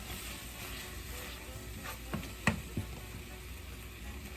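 Food sizzles steadily in a hot pan as it is stirred, with a couple of soft scraping knocks partway through and no talking.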